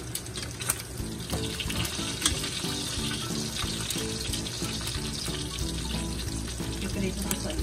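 Pork sticks frying in hot oil give a steady, dense sizzle throughout, with a watery bubbling texture and faint background music; no one speaks.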